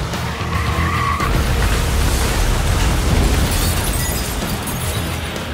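A 3,600-pound SUV crashes into a bakery shop: a dense, loud roar of impact and grinding debris with a skidding screech early on, sustained and chaotic for several seconds.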